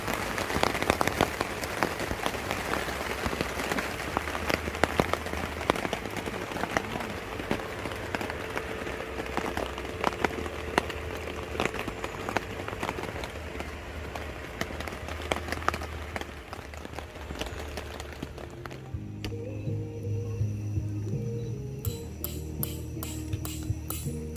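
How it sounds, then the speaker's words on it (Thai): Rain patters steadily at a riverside campsite at Kaeng Krachan on the Phetchaburi River, a dense continuous hiss of drops on surfaces, easing toward the end as a faint low hum comes up. "ตอนนี้ฝนตกครับ"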